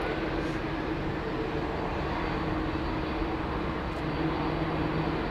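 Jet aircraft noise at London Heathrow from a roughly 31-year-old Boeing 767 with Pratt & Whitney engines, a steady broadband roar holding at constant loudness throughout with no talk.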